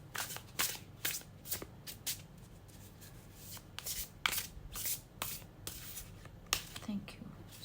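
Tarot cards being handled and shuffled at close range, a run of crisp riffling bursts and soft slides repeating irregularly over a low steady background hum.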